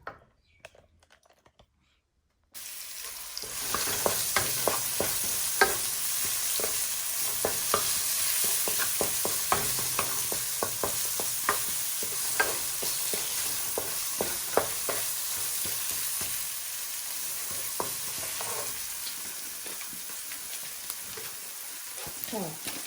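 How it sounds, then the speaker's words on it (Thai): Chicken drumsticks being stir-fried with herbs in a hot pan, a steady loud sizzle with repeated scraping and clicking of a utensil against the pan, continuous after a brief quiet start. "เราเอาตัวนี้ลงใส่ด้วยค่ะ ผัดให้หอมรวมกันค่ะ"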